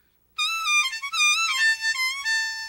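High notes on an A harmonica played in the blues style, a bright reedy wavering melody with bends and held tones, close and alone after a brief silence.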